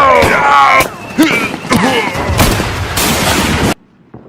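Rapid gunfire and explosive bursts in a stop-motion battle film, loud and close, with shouting voices mixed in before the sound cuts to near silence.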